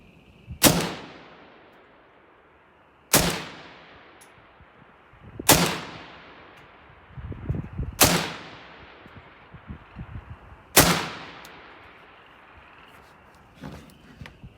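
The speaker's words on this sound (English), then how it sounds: "So we'll shoot 5 and see if we can get an average on what it's doing." Five sharp, loud suppressed rifle shots from a Sons of Liberty M76 fitted with a Sandman K suppressor, firing PMC X-Tac 55 grain ammunition, spaced a few seconds apart, each cracking and ringing off into a short decay.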